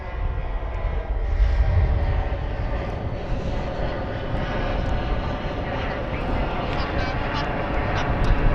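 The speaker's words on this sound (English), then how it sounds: "that was an amazingly quick takeoff" A DHL cargo plane taking off at an airport, its engines producing a steady, loud, broadband roar that holds throughout without any pause.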